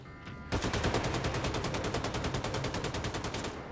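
Rapid automatic assault rifle fire in Wolfenstein II: The New Colossus, a dense, loud, steady burst of shots lasting several seconds after a brief quieter lead-in.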